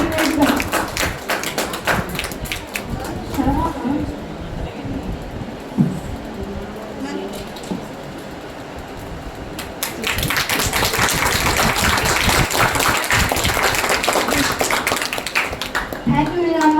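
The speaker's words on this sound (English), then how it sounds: "Please give a big round of applause to Nana" Audience at a final-day celebration of an ITI institute clapping for a guest speaker, sparse uneven claps early on, then a fuller burst of applause in the later seconds, with talk mixed in.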